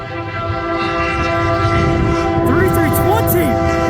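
CN freight train U724 rolling past at Ladysmith, Wisconsin, a loud, steady rumble of heavy railcars with sustained multi-tone horn blasts held throughout, close and continuous.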